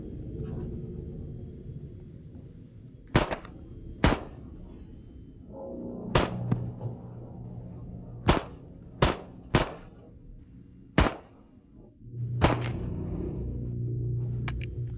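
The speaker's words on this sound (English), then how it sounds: "Shoot the targets until the mag is empty." Pistol shots at targets in the VR game Into the Radius, about ten sharp, separate cracks spaced irregularly over a low steady hum, each standing clearly above the background.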